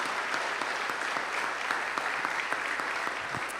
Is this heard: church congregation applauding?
yes